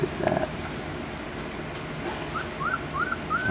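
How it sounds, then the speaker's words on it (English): A litter of young puppies in a wooden puppy box let out soft, high, rising whimpers and faint yips, a few scattered cries near the start and a short run of whines toward the end over quiet room noise. "And these puppies love their puppy box there."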